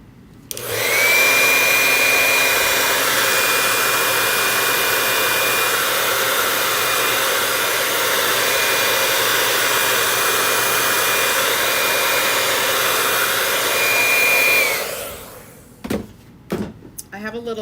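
Hair dryer blowing on a handmade football door sign, a loud steady whirring whoosh with a high whine that starts abruptly, runs for about fourteen seconds and cuts off, followed by a few soft handling knocks.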